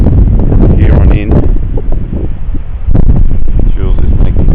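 Strong gusts buffet the microphone on a muddy cliff-top descent near Crater Cove, a loud continuous roar of wind noise with bursts of people talking under it.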